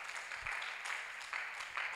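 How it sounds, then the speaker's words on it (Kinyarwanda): Congregation clapping for the singers at a church service, a dense steady wash of applause from a crowd, moderately loud with slight swells, no speech over it. "Reka duhe Imana amashyi menshi kubwo abaririmbye."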